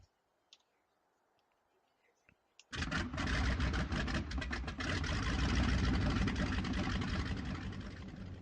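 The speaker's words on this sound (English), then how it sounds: "I will deselect engine 2 and start engine 1." Near silence with a few faint clicks, then a large bomber aircraft engine in a video game abruptly catches and roars into a loud, steady rumble that continues to the end.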